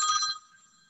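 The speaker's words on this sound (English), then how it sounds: "I'll turn off the phone." A telephone bell rings once in a short burst, then decays quietly. No one speaks.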